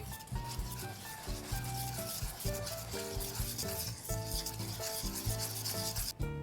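Matcha powder and sugar are stirred by hand into softened cream cheese with an egg-milk mixture for a no-bake cake, giving a steady scraping rub that runs without pause over soft background music.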